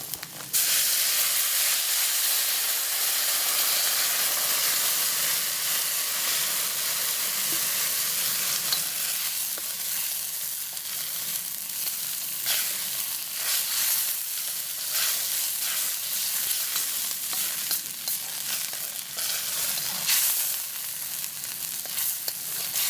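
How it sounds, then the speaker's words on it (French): Fried onions and carrots deglazed with white wine in a hot pan, giving a loud sustained sizzle and hiss with crackling bursts and occasional stirring scrapes, and no talking. "je fais revenir les oignons avec les carottes. Allez, il est temps de déglacer au vin blanc."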